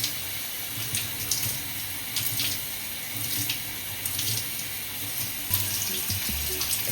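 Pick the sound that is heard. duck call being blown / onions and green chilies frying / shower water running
shower water running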